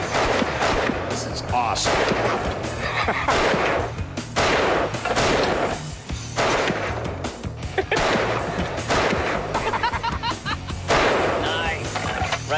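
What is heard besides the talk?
Nepalese-made Bir machine gun firing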